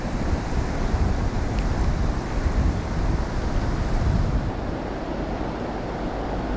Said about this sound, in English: those rapids are making a lot of noise